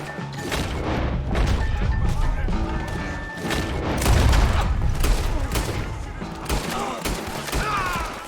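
Red Dead Redemption 2 gunfight with dense, repeated rifle and pistol shots and crashing impacts over a music score, with shouted voices in between.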